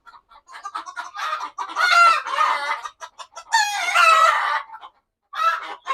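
Chickens squawk and cackle loudly and close by in repeated frantic bursts while one hen is being caught, their calls overlapping in agitated waves with brief pauses between.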